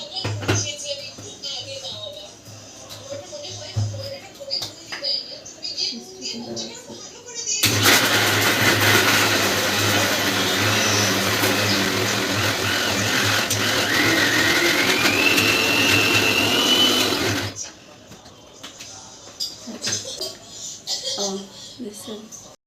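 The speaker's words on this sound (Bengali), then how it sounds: "হাফ হাফ করে নিয়ে হচ্ছে কি আমি এটাকে ব্লেন্ডার করবো" An electric blender mincing boneless chicken meat roars loudly and steadily for about ten seconds, nearby and overpowering, with a rising whine near the end, then cuts off abruptly; a person talks before and after it runs.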